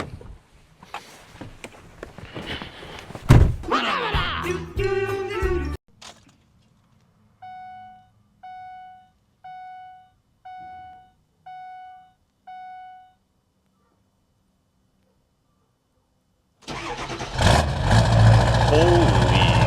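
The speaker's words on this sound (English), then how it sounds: "Let's give it another cold start and see what we get." Old diesel truck cold starting at about -5 degrees: several short repeated chime beeps sound first, then the engine cranks and catches into a loud, rough running roar close by, with talk heard before it.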